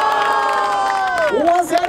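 Crowd at a street rap battle in Barueri cheering and shouting loudly for about two seconds, with whoops rising over the dense roar.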